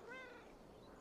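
A cat in the video game Assassin's Creed Valhalla lets out one short, rising meow, heard quietly over a dense game background.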